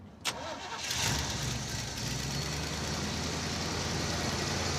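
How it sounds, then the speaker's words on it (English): A Roadkill Scrambler engine cranks over briefly with a sharp click, then fires and settles into a steady, loud fast idle with the choke still on, a continuous rumble that holds through to the end. "I'm finding neutral and firing it up."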